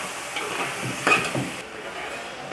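Chicken and chili are stirred and sautéed in a pan, with a steady sizzle and a brief louder scrape of the spoon partway through.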